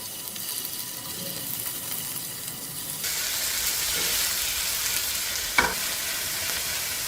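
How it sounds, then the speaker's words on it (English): Shrimp dropped into hot oil on high heat burst into a loud, continuous sizzle that swells sharply partway through and then holds steady. One brief clank is heard near the end. "Let's add our shrimps."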